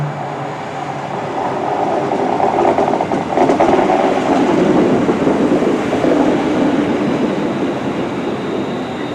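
Inside a Northern passenger train pulling into Rugeley Trent Valley station: a steady, loud rolling rumble of wheels on rails with a faint clatter over joints, continuing without voices.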